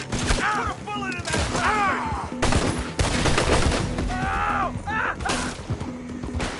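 Rapid gunshots crack out in bursts during a shootout in Red Dead Redemption 2, with a character's shouted voice and harmonic vocal calls layered over the loud, dense firing.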